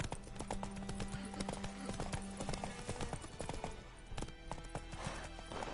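Roach the horse trotting in a video game, steady clip-clop hoofbeats close and clear throughout, with brief snorts and a faint voice in the mix.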